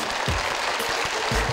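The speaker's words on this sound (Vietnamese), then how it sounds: "Mọi người dành một tràng vỗ tay đi." A studio audience on a television picture-puzzle game show applauds, giving a dense, steady patter of clapping hands at even loudness with a few low thumps underneath and no talking.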